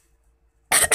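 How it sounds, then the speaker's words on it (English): A single sharp cough from someone who is getting sick bursts out near the end after a brief near-silence, close and fairly loud. "I'm sorry, guys, I'm coughing."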